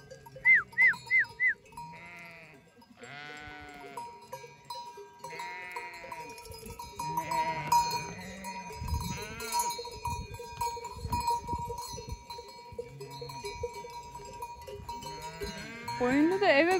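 Sheep, lambs and goats on a farm bleat repeatedly while neck bells clang, the animals close and fairly loud, with a voice speaking among them.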